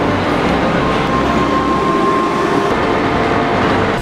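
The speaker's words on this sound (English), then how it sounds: "This train is super nice. Dutch train." A Dutch passenger train running, with a steady loud rumble and rolling rail noise from inside the carriage and a faint high tone above it, no talking.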